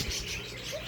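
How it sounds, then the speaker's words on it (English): Birds chirp outdoors in short, faint tweets, with a low coo-like tone beneath them, over quiet background noise. "I love birds."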